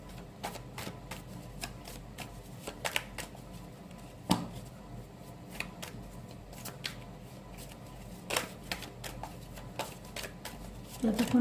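Playing cards are shuffled close by in a quiet room, producing a string of soft riffling flicks and sharp snaps with brief pauses between them.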